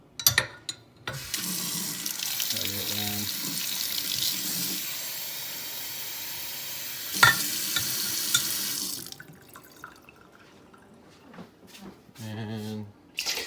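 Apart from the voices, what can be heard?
warm water running from tap into a bowl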